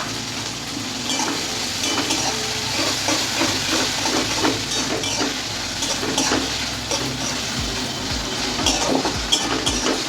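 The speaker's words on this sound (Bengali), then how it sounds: "পেঁয়াজটা একটু ভালো করে লাল লাল করে ভেজে নেব।" Chopped onions sizzle in hot oil with whole cumin in a pan while cooking a jackfruit and egg curry, a continuous close hiss with scattered pops and occasional stirring scrapes, no voices.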